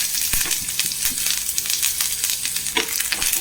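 A small chopped onion and curry leaves fry in a pan for a cluster bean stir-fry, giving a close, lively sizzle with crackling pops and the scrape of stirring.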